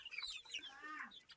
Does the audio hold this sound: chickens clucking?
yes